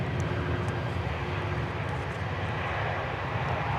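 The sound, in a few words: British Airways Airbus A380 airliner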